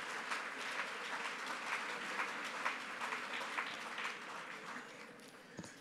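Steady applause from a conference audience for a panel, many hands clapping in a dense patter at a moderate distance, tapering slightly toward the end.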